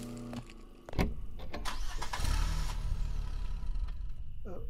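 Garbage truck engine in a horror video game, cranking and revving into a loud, steady rumble after a sharp start, with someone talking briefly over it.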